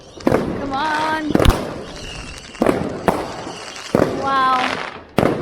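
Fireworks lit for Diwali and bonfire night: sharp cracking bangs recur every second or so, with whistling, rising fizzes between them, loud and close, while people talk nearby.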